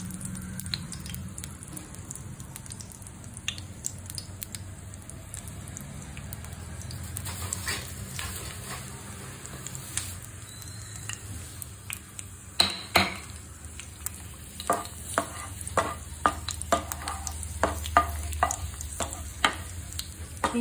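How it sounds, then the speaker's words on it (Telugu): Dried red chillies fry in about four tablespoons of hot oil in a kadai, a soft continuous sizzle punctuated by scattered stirring scrapes and clinks that grow busier toward the end. "ఆయిల్ వేడైన తర్వాత ఎండుమిర్చి వేసుకుందాం."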